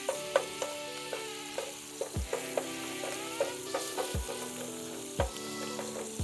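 Shrimp and garlic sizzle steadily in a hot pan for home-style fried rice, with repeated scraping and clattering of a spatula stirring through the constant frying hiss.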